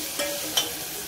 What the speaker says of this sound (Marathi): इथे हिरवी मिरची आणि टमाटे, कढीपत्ता परतून घेतलेला आहे